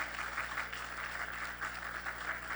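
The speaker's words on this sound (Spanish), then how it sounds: "Dale ese aplauso más fuerte al Señor" A church congregation applauds, a steady, continuous wash of many hands clapping at even loudness throughout, slightly distant in a reverberant hall.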